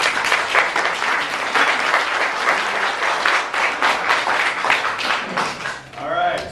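A crowd applauds loudly and steadily after a candidate's speech at a county commissioner race breakfast forum, the dense clapping filling the room before fading, followed by a voice.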